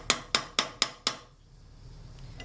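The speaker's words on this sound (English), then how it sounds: "just hammering down to make sure that that's nice and flat" A hammer strikes metal five times in an even rhythm to flatten the straight side of a sheet-metal tension fit container, each blow a sharp, ringing, close impact, followed by quiet.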